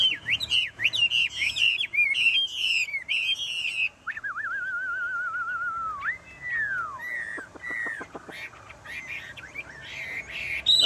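A caged Chinese hwamei songbird sings up close and loud, mixing rapid trills, long sliding whistles and sharp chirps in a varied, nearly continuous phrase with brief pauses.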